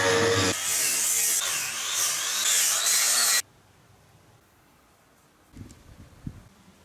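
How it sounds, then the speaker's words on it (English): Grinder fitted with an 80 grit sanding disc sanding metal ramp on a vehicle project, a loud, steady, harsh abrasive roar that runs for a few seconds then cuts off, followed by quiet and a few faint knocks. "now I'm going to attack it with a sanding disc, an 80 grit sanding disc"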